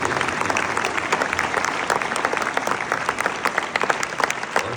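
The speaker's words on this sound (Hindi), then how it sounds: "जोरदार तालियां हुई" Loud, dense applause from a school morning assembly crowd, steady clapping throughout with no pause.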